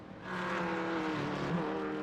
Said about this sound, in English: Kevin Bonomi is barreling down the hill into the chase.